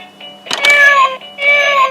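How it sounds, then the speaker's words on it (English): A domestic cat gives two loud, close meows in quick succession, each a drawn-out nasal wail with a short pause between, no other sounds. "Cat."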